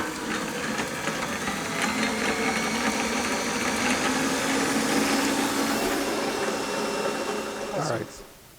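An electric mixer fitted with paddle attachments creams butter for butterkoek, giving a steady, loud motor whir with rattling beaters that runs unbroken for about eight seconds before switching off abruptly.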